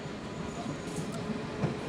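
Light rail train passing through Jerusalem, a low rumbling roll with faint clatter and brief high squeals, steady and moderately distant.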